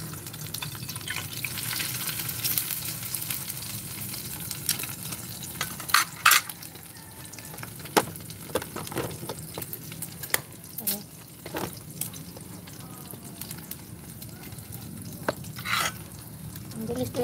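Food frying and sizzling in a pan over an outdoor fire, a steady soft crackle with scattered sharp pops and clinks of stirring, close but fairly quiet outdoors.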